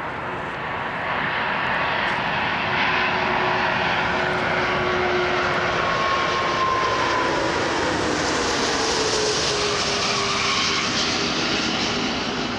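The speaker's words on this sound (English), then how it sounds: "Listen to the engines of the A340 that it gives off, it's sick." Jet engines of a Chinese Eastern Airlines Airbus A340-600 at Toronto Pearson airport roar loud and steady throughout, with a whining tone that slowly shifts pitch as the aircraft passes nearby.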